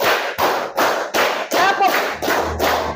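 A class of students claps together in a counted rhythm, eight sharp group claps evenly spaced over three seconds, loud and close, with a faint voice briefly underneath.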